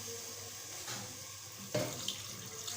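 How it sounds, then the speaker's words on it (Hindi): Water pours steadily into a pressure cooker holding meat for dal gosht, with a continuous rushing splash and a brief clank partway through. "पानी डालेंगे।"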